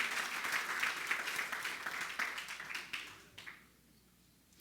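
A church congregation applauds the Lord during a Christmas sermon, with dense clapping that is fairly loud at first, thins out after about three seconds and fades to a few scattered claps.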